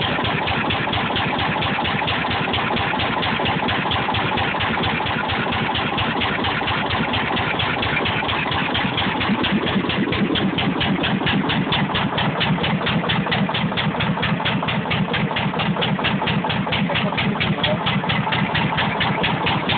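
A KOLUMBUS petroleum stationary engine runs steadily close by, its firing beats forming a fast, even rhythm that continues for the whole stretch.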